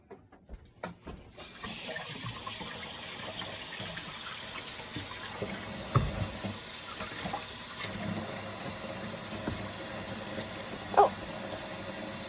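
Tap water runs steadily into a kitchen sink, splashing and hissing during dishwashing, with a few clattering knocks at the start and occasional louder splashes.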